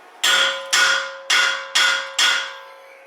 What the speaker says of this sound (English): Got the hammer. I have a punch.